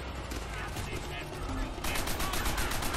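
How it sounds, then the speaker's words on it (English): Rapid machine-gun bursts from Call of Duty: World at War's opening mission "Semper Fi", loud and continuous, growing denser in the second half with clear repeated shots, mixed with other battle noise and some talk. "machine gun for the win"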